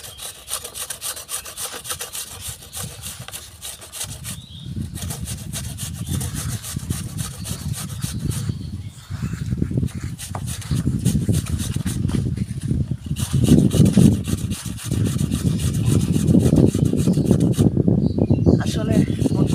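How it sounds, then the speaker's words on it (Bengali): Mangoes being grated by hand make a rough, rhythmic rasping scrape that comes in repeated bursts and grows louder and denser toward the end, with brief pauses between strokes. "এটাকে আমগুলিকে ঝুরি করব।"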